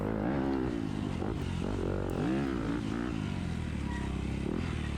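Dirt bike engine in a hare scramble race on wooded pine-section trails, a steady buzzing drone with rising and falling revs as the rider accelerates, continuous and fairly close throughout.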